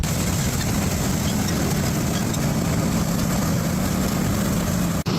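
Farm harvester engine idling before bean harvest, a steady, loud low rumble with a constant mechanical drone throughout, no talking over it.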